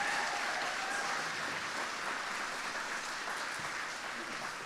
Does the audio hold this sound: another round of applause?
yes